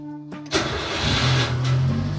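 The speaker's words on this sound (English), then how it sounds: "Let's make sure the car can start." Engine of a Subaru Sambar kei truck cranks briefly, then catches and settles into a steady, close idle in a garage with a low mid-pitched hum, no talking.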